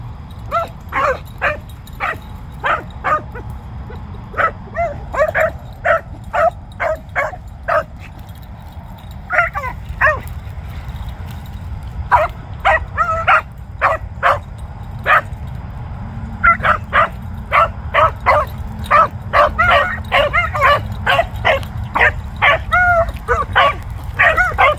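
Hunting dogs, an older hound and a young pup just released from a starting pen, bark and yip steadily in rapid bursts while running through brushy ground with a small cedar tree, the voices close and continuous throughout.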